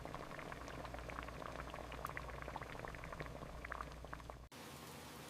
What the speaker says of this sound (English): The soup comes alive with a gentle bubbling sound.